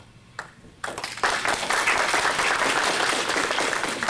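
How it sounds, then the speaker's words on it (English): Audience applause at a candidates' debate, a dense, steady wave of clapping from a crowd that swells in after a brief pause and carries on loudly to the end. "Hold your applause, please."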